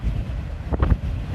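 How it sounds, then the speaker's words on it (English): Strong wind gusts of about 24 to 30 mph blow across an outdoor microphone in Lorain County, producing a low, loud rumbling roar that surges in brief bursts near the middle, with no voices. "it looks like about 24 mile an hour winds in general"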